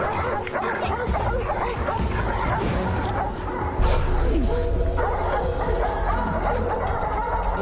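Several dogs bark and yip excitedly in a continuous chaotic chorus, mixed with voices talking over them.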